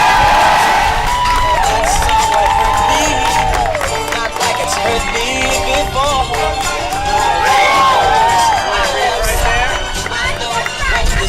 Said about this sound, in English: Friends and family, big round of applause